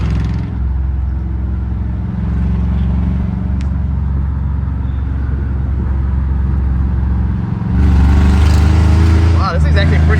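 A melted big block Chevy engine in a 1990s truck revs hard and pulls through the gears with a loud, deep, steady rumble that rises sharply near the end, with someone talking over it.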